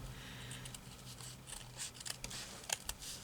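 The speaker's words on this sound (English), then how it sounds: "Oh, this scissors are very sharp." Sharp scissors snipping paper for a doll-themed craft journal with ephemera: a quick run of crisp, close cuts, fairly quiet, with no talking.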